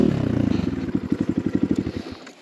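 A KTM XCW 200 dirt bike engine chugs nearby in rapid, even pulses that slow and fade away to quiet at the end.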